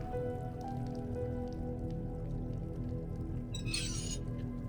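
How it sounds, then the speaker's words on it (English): Water drips steadily in the horror game Asylum, a soft patter of droplets over a low constant hum, with a brighter splash near the end. "I hear water."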